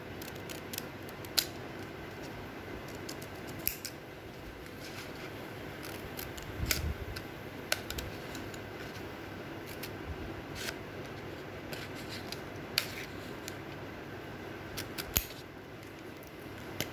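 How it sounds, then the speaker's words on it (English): Scissors cut an A4 paper sheet into a bow shape, producing small, faint snips and clicks scattered irregularly over a steady background hiss, close up with no talking. "we will cut the A4 sheet in the shape of bow"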